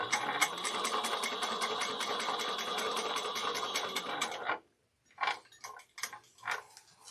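A sewing machine runs in a fast, steady stitching rattle while sewing a bag, stops abruptly, then resumes in short bursts of a few stitches, close and clear.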